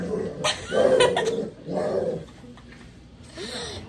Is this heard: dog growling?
yes